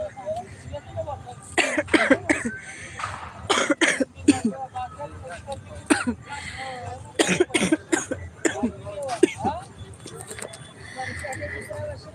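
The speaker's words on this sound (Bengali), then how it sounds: "আমার একটু কাশি হচ্ছে" A person coughing repeatedly in short harsh bursts, some clustered in quick pairs, close to the microphone, with a bit of throat clearing between them and talking around them.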